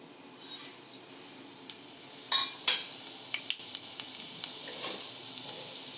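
Mustard seeds, cumin, fennel, cinnamon, cloves, stone flower and bay leaf sizzle in hot oil for a Tamil paruppu urundai kulambu, a steady close hiss with sharp crackles and pops scattered throughout and no talking.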